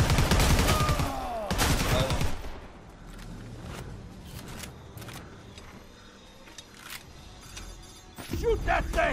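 Loud bursts of gunfire in a video game, heavy shots crowding the first two seconds, then scattered sharper shots and clatter at lower level, with another loud burst near the end and a voice talking over it.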